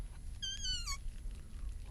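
A person imitates a cat with a short, high, rising-then-falling meow, sounding once over a low rumbling background.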